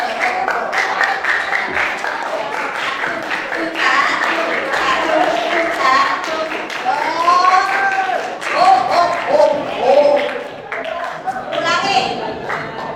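A group claps a rhythmic chant at a talk on religious moderation, patterned clapping mixed with voices calling out together close by and fairly loud.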